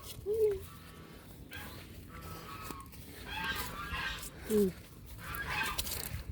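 Geese give a few short nasal honks, one early and a double honk later, at moderate distance outdoors on a farm with rustling and faint people talking in the background.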